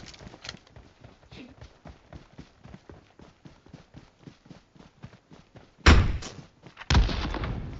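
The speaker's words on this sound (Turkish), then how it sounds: "Kuleye bomba attım." A bomb thrown at a tower explodes in PUBG Metro Royale, two sudden loud blasts near the end after a long run of soft, rhythmic footstep thuds.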